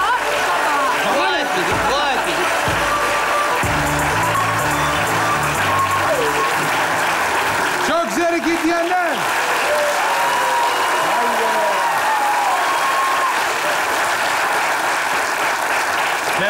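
A crowd applauds steadily throughout, dense clapping mixed with cheering and voices, loud and continuous from start to finish.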